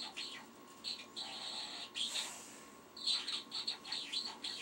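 Birdsong played back from a video, a series of bright chirps and tweets in short bursts over a faint hiss, moderately loud and close, with no one talking.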